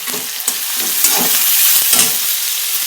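Onion and cumin fry in oil with popping mustard seeds, a loud, close, unbroken sizzle overlaid with rhythmic stirring strokes every half second or so.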